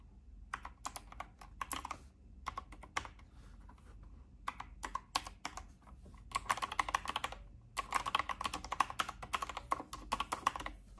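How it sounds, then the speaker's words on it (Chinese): Typing on a Bluetooth 5.0 keyboard that also supports 2.4G: a quiet, close run of light key clicks in irregular bursts, growing faster and denser toward the end, with no talk. "来试一下打字"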